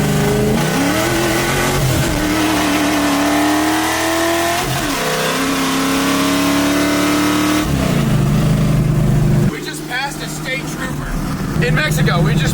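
A loud V8 engine in a 1965 Ford Mustang roars nearby as the car accelerates hard through several gear shifts with some wheel hop, the rumbling pitch rising and dropping, with a brief lull near the end.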